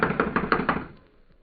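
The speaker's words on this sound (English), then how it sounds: "I'm going to knock." Five firm knocks on a locked wooden cabin door come in an even, quick rhythm, close and loud, followed by a short fading echo.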